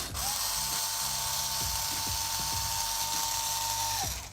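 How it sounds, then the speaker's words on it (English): A power tool whirs steadily at close range while backing a screw out of the chassis of an ARRMA Talion V3 RC car fitted with GKA upgrades, with short clicks and ratcheting knocks riding under the continuous motor whine. "Let's now remove this screw."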